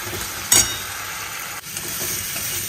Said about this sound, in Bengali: আগে পেঁয়াজ রসুনটা ভালো করে কষে যাক।